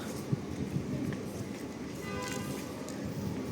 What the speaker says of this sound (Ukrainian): Трамвай їде, зараз ви побачите його.